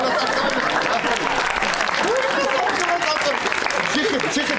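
Continuous hand clapping, dense and loud throughout, with people talking over it.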